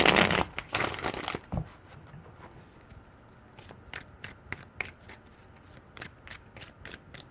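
Tarot cards are shuffled in a loud riffle burst at the start, followed by a run of crisp, evenly spaced card snaps and taps, close and alone.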